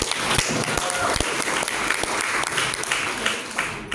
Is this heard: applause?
yes